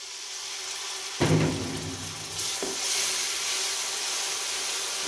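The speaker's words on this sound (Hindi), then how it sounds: "तमाम मसालों की हम अच्छे से भुनाई करेंगे तकरीबन 1 मिनट।" Spices with a little added water, cooked down for a beef kofta curry, fry and sizzle steadily in a pan, with a louder burst of hissing and stirring partway through and no talking.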